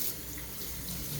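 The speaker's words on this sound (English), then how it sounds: "Everybody says wash your hands, but gotta do it." Hands being washed under a running kitchen tap in a high school cooking class, a steady close rush of water splashing into the sink with no talking.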